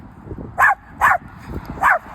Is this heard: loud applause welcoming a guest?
no